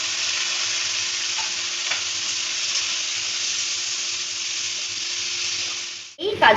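Sliced onions, tomatoes and green chillies fry in hot oil for chicken do pyaza, giving a steady, close sizzle that holds evenly before a sudden clatter of stirring at the end.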